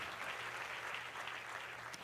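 A church congregation applauds during a sermon, a steady, faint wash of clapping heard from a distance without interruption.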